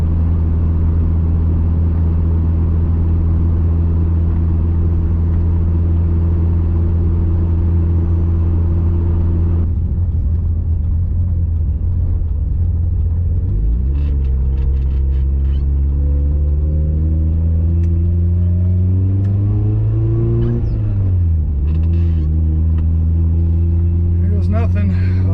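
Mitsubishi Evo with a stock-block engine and 6466 turbo driving, a loud steady engine drone that rises and falls as it accelerates and shifts, heard from inside the car.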